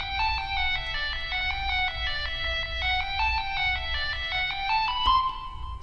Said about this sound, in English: this lead here. I call it the second lead.